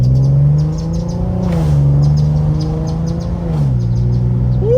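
Infiniti Q50 in manual mode, accelerating with paddle shifts: a steady engine drone climbs in pitch, dips briefly at each upshift, and rises again, loud and close from inside the cabin, with no talking.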